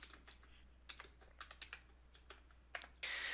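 Quick, light keystrokes on a computer keyboard type out a short label, a brief run of crisp clicks with small pauses, close and clear, ending in a brief louder tap.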